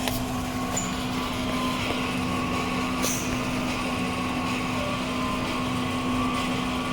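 A Nebula 42F DTF printer pump running during a strong head-cleaning cycle, pushing ink in a steady, close, constant mechanical hum with a few faint clicks, no speech.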